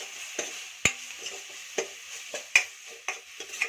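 Chili powder frying with spices in a pan for a green gram and spinach dal, a soft low sizzle broken by sharp spoon scrapes and taps against the pan at irregular intervals, no voices.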